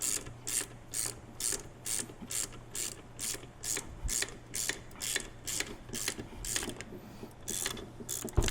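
A hand ratchet clicks in quick, even bursts while lightly snugging bolts on a front ARB locker being installed in a 100 Series Land Cruiser, close and moderately quiet, with short pauses between strokes and no voices.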